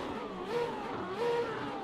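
A Ferrari engine revs in a racing video game during an esports practice session at Zandvoort, rising twice in steady, moderately loud swells over a continuous engine drone, with no talking.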